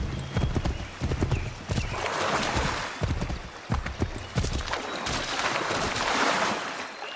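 Horse hooves clip-clopping steadily in Assassin's Creed 3, shallow water splashing around the strides, with an occasional faint whinny.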